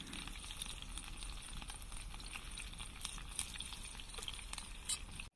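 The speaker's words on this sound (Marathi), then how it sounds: "तर आपलं तेल तापलेलं आहे तर याच्यामध्ये मी हिरवी मिरची टाकून घेते" Green chilies frying in hot oil in a home kitchen pan, a steady close sizzle and crackle running continuously with no talk.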